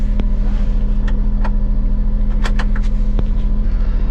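The engine of a Smart ForTwo 450, left unused on a driveway for six weeks, idles steadily with a close, even, low hum and a few faint clicks over the top.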